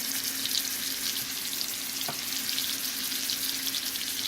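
A stuffed steak burger sears in melted butter in a pan, giving a constant, even sizzle with a faint hum underneath and one small knock midway.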